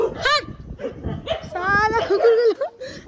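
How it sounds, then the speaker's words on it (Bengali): Dogs bark and yelp in short, close, excited bursts, some whiny and high-pitched, with a person's voice mixed in. "কি চিল্লাচ্ছে বাবা রে, চুপ কর বদমাইশ কুকুর।"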